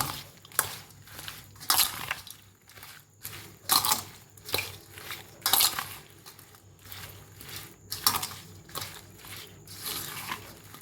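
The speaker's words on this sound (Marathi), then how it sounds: "हलवून ओतूया वतल्यावर एकदा मिक्स करून घेऊया" Lemon and green chili pickle is mixed in a pot with a steady series of wet, squelching strokes about once per second, close and moderately loud.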